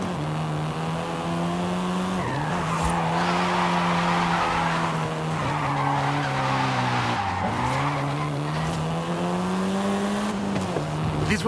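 A 7th-generation Volkswagen Golf R in Forza Horizon 5 holds a steady engine drone, broken by several long tire squeals and skids as it slides through corners, with the engine pitch dipping and recovering between them.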